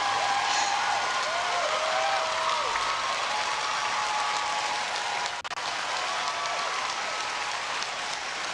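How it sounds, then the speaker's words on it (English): Steady, dense applause from a large crowd at the Harvard commencement ceremony for the class of 2024, filling the space as a continuous wash of clapping with a brief dip midway. "Look at that emphatic applause."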